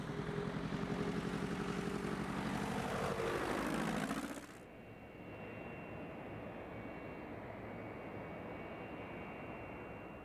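A propeller airplane flies over the Alaska wilderness. A loud, steady engine drone cuts off sharply partway through and gives way to a lower, even hum, with no voices.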